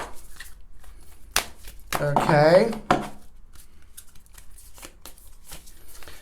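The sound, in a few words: shuffling a deck of oracle cards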